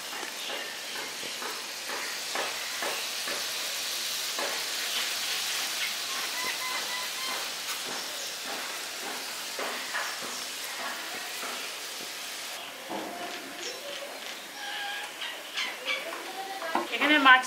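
Khoyra fish going into a boiling spiced broth, a steady bubbling, crackling simmer with soft stirring taps, then clatters and handling noises toward the end, no speech.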